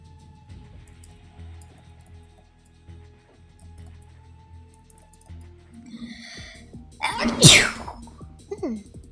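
A single loud sneeze bursts out near the end of an online game session, close and sudden after quiet background hum and faint talk.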